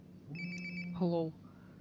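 A phone rings in the video game Life is Strange: Before the Storm, giving a short electronic ringtone burst over a low hum. A voice overlaps the end of the ring.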